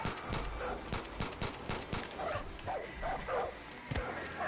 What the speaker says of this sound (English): Oh, they're having a dog fight.